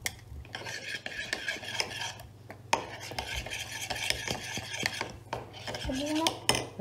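Homemade paint is stirred in a container to mix colours, giving a steady run of scraping, clinking rubs from the stirring tool, close and moderately quiet, with a brief voice near the end.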